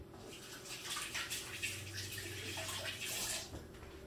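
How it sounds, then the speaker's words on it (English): Hands being rinsed under a running tap while making agua de sandía, a steady soft rush of flowing water with faint splashing, close and quiet, with no talk. "Rinse my hands."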